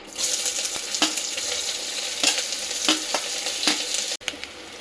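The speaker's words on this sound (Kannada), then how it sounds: "ಸೊ ಫಸ್ಟು ಈರುಳ್ಳಿ ಹಾಕ್ತಾ ಇದ್ದೀನಿ." Onions frying for paneer biryani, a steady close sizzle in a pan with scattered stirring clatters and a brief drop near the end.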